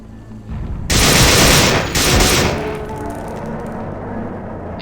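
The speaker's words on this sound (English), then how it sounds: "I'm gonna shoot it with automatic fire and hope that does something." Automatic gunfire in System Shock 2, a loud sustained burst of rapid shots starting abruptly, a brief dip, then a second burst trailing off into a lingering rumble, with no voices.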